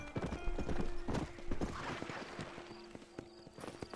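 Hooves clip-clop in a quick, uneven rhythm as a horse moves in the Red Dead Redemption video game, with a brief whinny and a faint steady tone beneath, fading somewhat toward the end.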